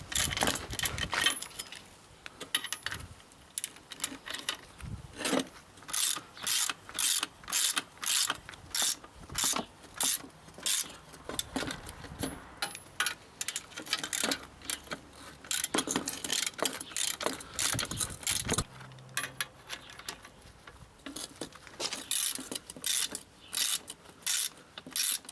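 Spring compressors are ratcheted tight on a car's front shock absorber coil spring, producing close, rhythmic bursts of sharp clicking with short pauses between strokes and no voices.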